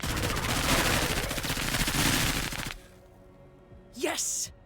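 Dense, loud bursts of rapid gunfire from shooting enemies in the tactical game Menace fill the first few seconds, then cut off to a quiet background followed by a brief sharp sound.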